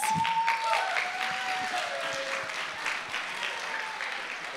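Audience applause at a coffeehouse poetry reading, a dense steady wash of clapping from a small room that holds evenly for several seconds with a faint tonal whistle running beneath it.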